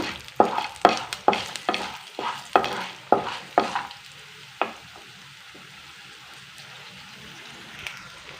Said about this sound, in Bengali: ছোলার ডালও যেটা লাড়ব এখানে একটু লাল করে করে নেব